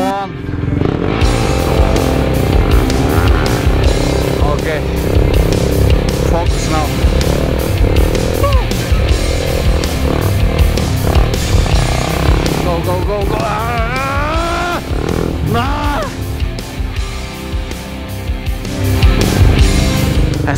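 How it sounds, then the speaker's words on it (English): A motorcycle on the Red Bull Ring circuit revs and accelerates through third gear, its engine whine rising and falling loudly and close for the whole stretch, with talk heard now and then. "I'm losing the power in the engine in the third gear, so I go down."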